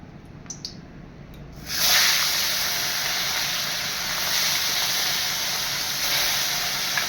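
Fresh sarputi fish hit hot oil in a pan and burst into a loud, broad sizzle that starts suddenly after a few faint clicks and continues steadily with bubbling spatter, close by and without talk.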